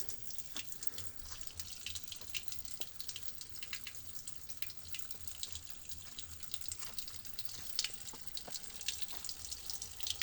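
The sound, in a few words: water flowing from a spring at Milistskaro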